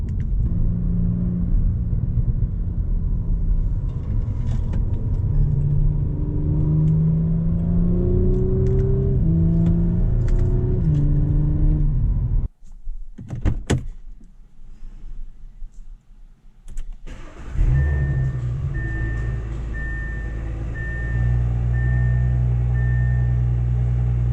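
A 2022 Audi S4 heard from inside the cabin, engine rumbling and revving up in rising steps under acceleration, a brief gap with clicks midway, then the drone of steady driving with a faint tone.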